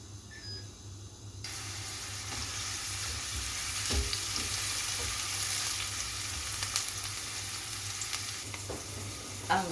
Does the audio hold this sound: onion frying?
yes